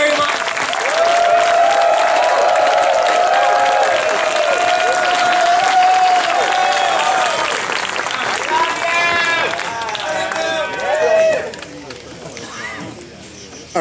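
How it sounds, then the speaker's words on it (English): Sustained audience applause after a pageant step-down speech, loud, dense clapping with cheers and voices mixed in, holding steady before thinning out toward the end. "one more round of applause for her"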